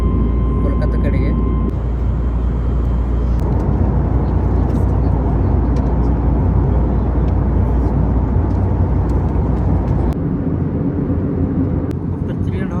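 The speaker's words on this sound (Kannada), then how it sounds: "ಟೇಕಪ್ ಆಯಿತು. ಇವಾಗ ಫುಲ್ ಗಾಳಿಯಲ್ಲಿ ಹೋಗ್ತಾ ಇರೋದು ಕೋಲ್ಕತ್ತಾ ಕಡೆಗೆ" Steady, loud IndiGo airliner cabin roar in flight shortly after takeoff, a dense continuous rumble with broadband hiss holding level throughout, no distinct events, one brief tonal hum near the start.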